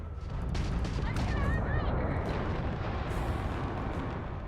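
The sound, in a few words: enemy ship exploding in video game Starfield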